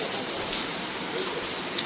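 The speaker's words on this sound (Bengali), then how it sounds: "প্রচণ্ড পরিমাণে বৃষ্টি বৃষ্টি কারণ থামার কোনো নামই নেই" Heavy rain pours steadily and loudly, a dense constant hiss of drops hitting surfaces with no breaks.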